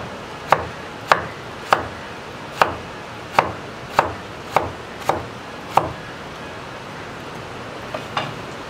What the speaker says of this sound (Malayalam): അപ്പൊ നമുക്കിത് ചെറുതായിട്ട് കട്ട് ചെയ്തെടുക്കാം.